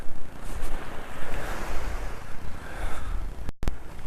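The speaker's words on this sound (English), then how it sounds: "Here's a little meditative ocean view for you all this morning." Ocean waves wash and break steadily along the shore, a broad continuous rush swelling and easing over a few seconds, close and fairly loud, with wind buffeting the microphone and a brief dropout near the end.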